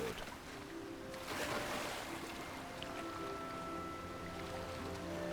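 A waterfall in Hogwarts Legacy gives a steady, full rushing roar of falling water, even and continuous, with faint tonal background music underneath.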